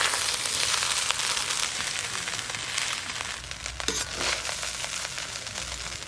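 Fried rice and vegetables stirred in a pan over a clay stove: a continuous sizzle with scraping and clinking from the stirring, close and steady.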